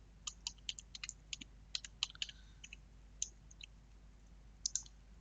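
Short bursts of clicking keystrokes on a computer keyboard, a few quick taps then pauses, close and fairly quiet over a low steady hum.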